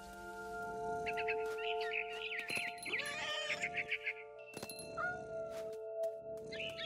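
A cat meowing in the video game What Remains of Edith Finch, several drawn-out, wavering meows clustered in the middle over steady tonal game music and scattered clicks.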